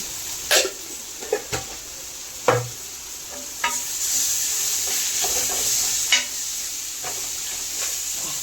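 Prawns frying on a tawa with garam masala and ginger-garlic paste, a steady sizzle broken by several sharp scraping clacks of a spatula at irregular intervals, close and clear.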